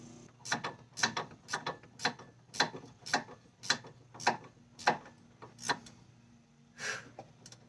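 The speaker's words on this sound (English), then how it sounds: "I've got the Allen wrench in the center, holding the shaft, and I've got the wrench for the outside." A wrench ratchets on a badly rusted end link nut of a 2012 Fiat 500, giving about a dozen sharp, close clicking bursts in a steady rhythm with brief pauses, no talking.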